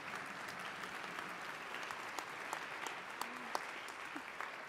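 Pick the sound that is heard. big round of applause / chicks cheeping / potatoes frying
big round of applause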